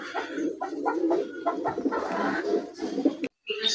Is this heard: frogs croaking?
no